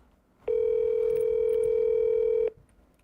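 A single steady telephone tone sounds for about two seconds, clean and moderately loud, as a call goes through to voicemail, with no voices during it.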